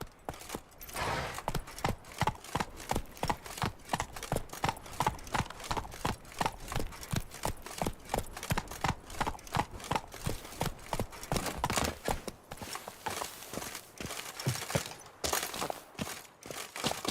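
Horse hooves trot steadily in The Witcher 3: Wild Hunt, a loud, continuous clip-clop rhythm that runs without pause across the whole stretch, close and prominent, with no voices over it.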